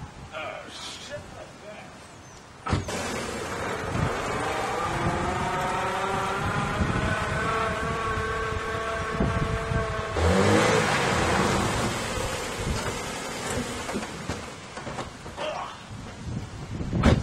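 A car engine starts with a jolt and revs, its pitch rising and falling in sustained surges, loud and close, with wind noise around it.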